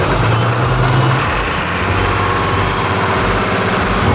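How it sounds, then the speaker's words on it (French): A tractor engine runs steadily at idle, loud and close, with a low rumbling drone and no talking. "Ok, bah je vais ramener le tracteur."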